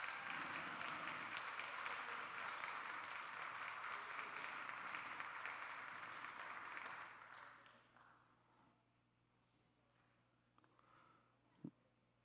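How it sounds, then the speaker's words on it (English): Audience applause at a student film awards screening, a loud sustained round of clapping from a large crowd that fades out after about seven seconds into quiet room tone with a faint thump near the end. "Round of applause, please."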